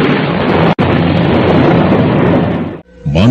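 A thunderclap sound effect from an Indonesian radio drama roars as a loud, broad, continuous rumble lasting nearly three seconds. It is briefly broken once, then cuts off abruptly before another sound begins.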